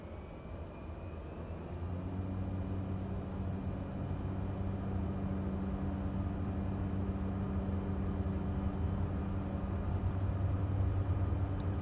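Propeller aircraft powering up for takeoff in Microsoft Flight Simulator, takeoff flaps set and prop forward on runway 17; a steady, loud engine drone with layered low harmonic tones that builds slightly and holds throughout.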